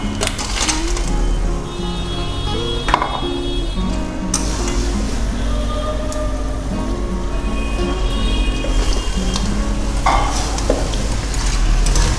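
Cut sea crab pieces drop into hot spiced oil, setting off a loud, dense sizzle and crackle that runs throughout, with occasional clinks of a spoon stirring in the pan.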